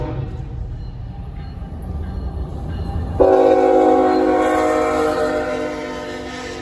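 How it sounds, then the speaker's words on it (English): CSX L332 freight train approaches a railroad crossing, a low rumble building before a loud, sustained multi-tone horn blast cuts in and holds for several seconds, close and dominant. "I noticed the railroad crossing signs activate for a train"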